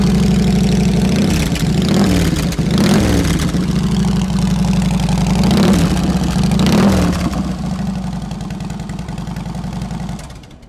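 A customized 2014 Harley-Davidson Softail Fat Boy with a 2-into-2 exhaust idles with a deep, loping rumble, close and loud, swelling with a few light blips before the revs settle and fade slightly toward the end.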